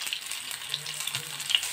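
Long slender eggplants fry in a pan of hot oil, giving a steady close-up sizzle with small crackles and no talk over it.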